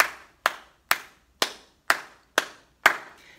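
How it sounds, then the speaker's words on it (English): Children clap out the rhythm of the nursery song Rain, Rain Go Away during a music lesson: seven crisp, evenly spaced claps in a steady beat, fairly close and clear, with no talking between them. "Can you clap me the whole rhythm for rain, rain, go away?"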